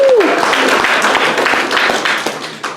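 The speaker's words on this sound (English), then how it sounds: "Everyone give her a big round of applause." An audience gives a short burst of clapping as a woman named Natalie comes up to the front, brief dense applause fading toward the end, with a trace of a voice at the very start.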